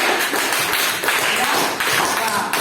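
A classroom group applauds a presenting team, steady dense clapping filling the whole stretch at an even level, with no pause or voice standing out.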